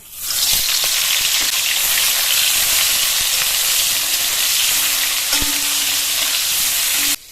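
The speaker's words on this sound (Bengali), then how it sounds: "তেলটা গরম হয়ে গেছে, ধোঁয়া উঠছে। এবার লবণ হলুদ মাখিয়ে রাখা পটলটা দিয়ে দেবো।" Pointed gourd coated in salt and turmeric hits smoking-hot mustard oil, setting off a loud, dense, continuous sizzle that holds steady close up, with a few faint clinks, then cuts off abruptly.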